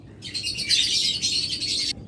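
A pair of green opaline budgerigars in a cage at a bird shop gives a continuous, close, busy chirping warble that runs for about two seconds and then stops abruptly.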